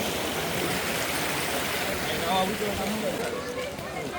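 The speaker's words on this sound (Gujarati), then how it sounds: "અહીંયા ખૂબ જ પાણી વહેતું હોય છે" A stream rushes beneath a bridge on the Girnar Lili Parikrama route near Junagadh in a constant broadband wash of flowing water, with a voice speaking over it.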